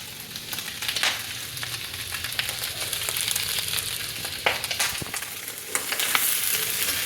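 Onion, ginger and garlic fry for a pork curry in a steady hiss, with sharp pops and stirring scrapes all through, and no one speaking.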